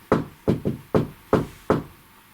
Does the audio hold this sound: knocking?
yes